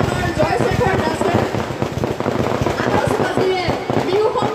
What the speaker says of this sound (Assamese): আতচবাজীৰে বিহু সম্ৰাজ্ঞীগৰাকীক মঞ্চলৈ আদৰিছে।